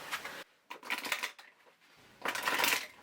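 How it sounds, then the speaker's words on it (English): A Green Witch Oracle card deck being shuffled by hand, close and fairly soft, in several quick riffling bursts separated by brief pauses. "So I'm going to shuffle this Green Witch Oracle deck"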